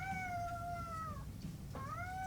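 A cat meows twice, long drawn-out tonal cries with a short gap between them, clear and close over a low steady background hum.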